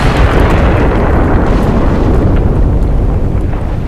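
An elemental explodes in Guild Wars 2, a loud, dense roaring blast that rumbles on without letup for several seconds.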